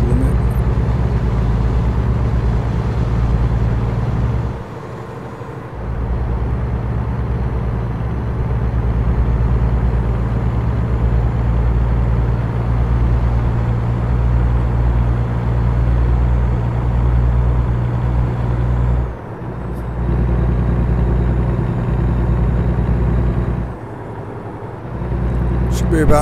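A steady, loud low engine drone of a truck cruising in American Truck Simulator 2, continuous with brief dips, with a voice talking over it.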